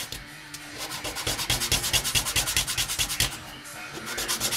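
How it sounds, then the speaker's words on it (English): Rhythmic back-and-forth strokes of 240 grit sandpaper smooth the edges of a corn cob pipe, close and fairly loud, with the scraping swelling and fading on each pass. "You have to use 240 grit sandpaper. And you're just gonna smoothen all the edges"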